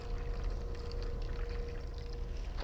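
Nutrient water poured into the bottom of a hydroponic seedling tray holding pepper and tomato seeds, a steady, soft, close gurgling pour running without a break and with no talking.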